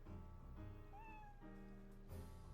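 Eve the cat meows in the video game Professor Layton vs Phoenix Wright: a single quiet, drawn-out mew with a rising then falling pitch over soft background music.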